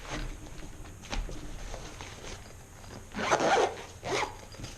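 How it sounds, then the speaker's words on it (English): Someone zips closed the carrying case of a Creader 7001 code reader, making a few quick rasping zip strokes close to the microphone, the loudest bursts near the end. "Zip it up nice."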